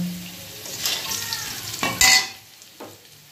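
Whole cinnamon and cardamom drop into hot oil with fried potatoes, setting off a sharp burst of sizzling that swells with stirring, then settles to a quieter crackle with a pan clink, no talking.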